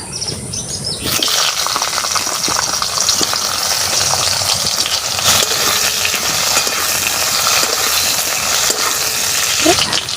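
Raw mango pieces drop into hot oil spiced with whole cumin in a pan, setting off a sudden loud sizzle that keeps crackling and bubbling steadily close up.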